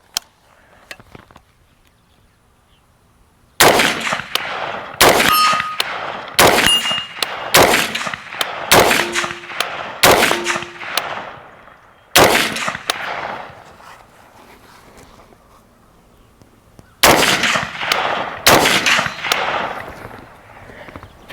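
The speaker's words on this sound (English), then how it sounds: "we'll get shooting with it with this red dot" A Colt M4 Block 1 clone rifle with a red dot sight fires a series of loud, sharp outdoor shots, spaced single shots with ringing tails, some followed by the metallic clang of a steel target.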